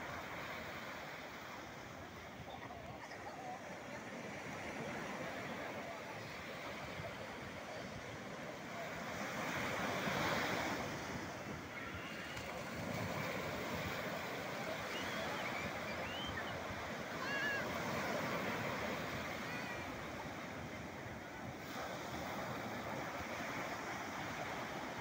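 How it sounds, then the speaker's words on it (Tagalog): Big ocean waves surge and break at a surfing spot in San Juan, La Union, a soft, distant wash that swells and recedes in slow cycles under light wind noise, with no clear talk. "Lalaki ng alon."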